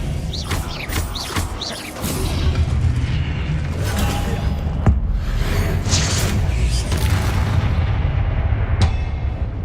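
Spell combat in Hogwarts Legacy, with the Expelliarmus disarming charm cast amid a loud, continuous rumble of magical blasts, booming impacts and whooshing bursts that persist throughout.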